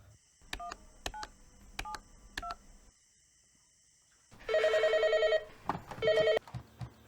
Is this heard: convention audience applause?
no